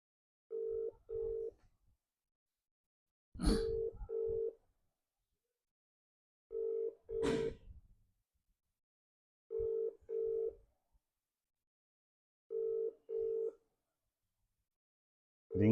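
A telephone call rings out on the line, a repeated double-burst ringback tone in evenly spaced pairs, with a few brief clicks and noises between the rings.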